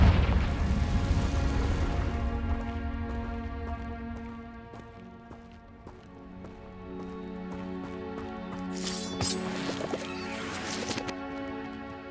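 A Confringo fire spell from Hogwarts Legacy goes off as a heavy booming blast that fades over a few seconds, leaving tonal shimmer and a later crackling burst.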